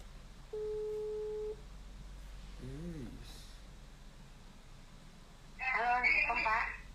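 A phone call rings out as one steady electronic tone lasting about a second, heard faintly, followed later by brief faint voices.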